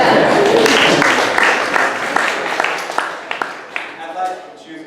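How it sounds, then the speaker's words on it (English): Audience clapping at a celebration event, loud and full at the start, then thinning into scattered individual claps as voices murmur underneath. "It's okay to clap, right?"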